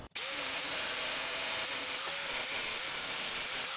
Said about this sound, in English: I just need to whack down those welds with the flapper wheel